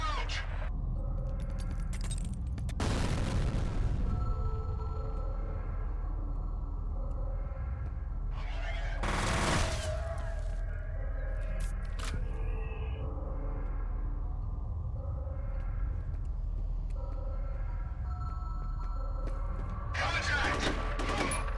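Grenade blast and gunfire in the first-person shooter F.E.A.R., with sharp bursts of shots and loud booms rising over a steady ambient hum, repeated a few times across the clip.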